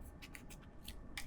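A few quick, dry snips and rustles close by, like scissors slicing through thin label tape on premade eyelash extension fans, brief and fairly quiet with no talking.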